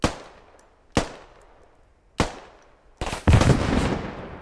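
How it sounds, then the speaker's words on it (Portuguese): AR-85 gunfire in a military simulator video game: three single loud, sharp shots spaced about a second apart, then a rapid close burst of automatic fire with a lingering rumble. "Ele tomou 3 tiros de AR-85."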